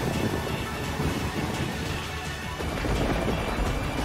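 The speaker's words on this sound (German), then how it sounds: "hier gibt's richtig Blitzgewitter und so. Ich höre Blitze." Thunder and lightning in a tunnel in the Mario Kart 8 video game, a dense, faint rumbling crash with rain-like noise that continues steadily, with no talking.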